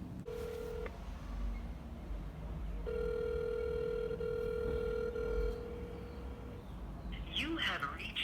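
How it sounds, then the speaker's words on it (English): A phone dialing a call, with steady electronic tones, one short and then a longer sustained beep under low background noise, followed by faint voices at the end. "Call him again."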